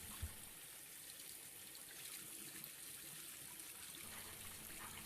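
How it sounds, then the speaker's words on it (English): A bathroom faucet, a Moen, runs both hot and cold water to flush sediment from the supply lines, giving a steady, moderately quiet stream of flowing water throughout with no talking. "we'll run both the hot and cold water to get the sediment out of the lines"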